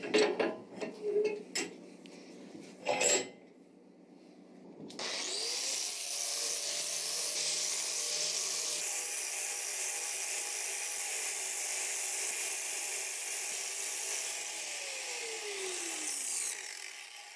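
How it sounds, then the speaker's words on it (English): An old hammer's mushroomed ball peen is ground back on a bench grinder: a few knocks and clatters, then the grinder spins up into a steady whine with harsh abrasive rasping, winding down toward the end. "what I want to do now is just go and grind, sort of redress the ball peen as well"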